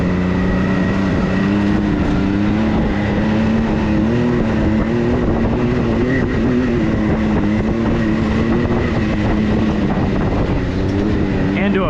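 A Can-Am Maverick X3 Turbo side-by-side drives a slightly wet motocross track, producing a loud, continuous engine drone with rumbling and wind that holds steady throughout.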